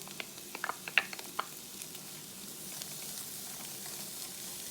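Diced onion hits a pan of frying bacon and carrots for Cajun rice, a quick cluster of soft clatter and taps at first, then a low steady sizzle that carries on alone.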